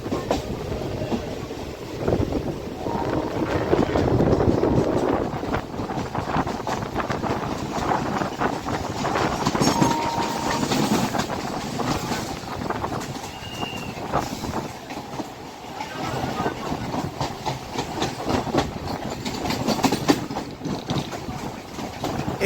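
A local commuter train running from Sealdah toward Barrackpore in West Bengal, with a steady loud rumble and clickety-clack of wheels on rails throughout, plus occasional faint squeals, heard from inside the carriage.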